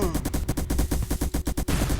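Rapid bursts of cannon fire in the Roblox game Build A Boat, loud repeated booms in quick succession, nearly a dozen shots over two seconds.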